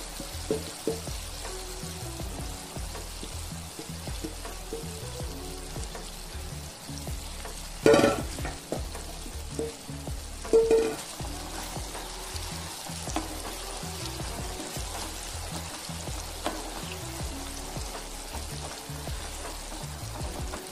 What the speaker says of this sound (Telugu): ఇప్పుడు నేను మనం నూరి పెట్టుకున్న ఈ పండు మిర్చి పేస్ట్ని దీంట్లోనే వేసుకొని వేసుకుంటున్నాను.